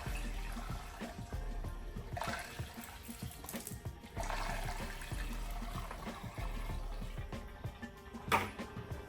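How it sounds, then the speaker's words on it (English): Water rushes and trickles through the radiator of an LMTV military truck during a flush, a steady close pouring sound in surging waves with gurgling, alone without talk. "I'm gonna run this, it's about 4 gallons of water through this and let it kind of rinse out the rest of that cleaner"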